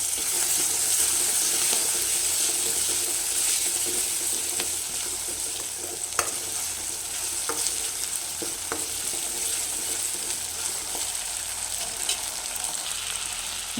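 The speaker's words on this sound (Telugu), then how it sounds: "ఇందులో అల్లం వెల్లుల్లి పేస్ట్ వేసుకుందాం" Ginger garlic paste sizzles steadily in a hot pan for chicken curry, a continuous close frying hiss with a few faint clicks of stirring and no talking.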